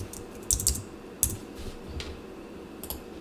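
Keys tap on a computer keyboard in a few sparse, quiet clicks and short clusters over faint room hum, with no talking.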